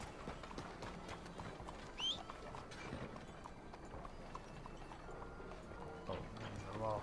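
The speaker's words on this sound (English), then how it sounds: "let me get my horse to come back over here again." Horse hooves in the video game Red Dead Redemption 2 clip-clop in a loose rhythm at a moderate distance, with faint voices and scattered other noises mixed in at a low level.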